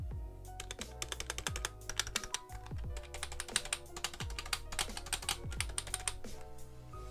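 Rapid, uneven clacking of keys on a membrane computer keyboard, close and steady for the whole stretch, with a few heavier thumps mixed in.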